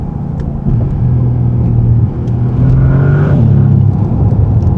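A 2025 Bentley Continental GT engine revs under acceleration, a loud, close, deep rumble that swells and climbs in pitch partway through, with no voices over it.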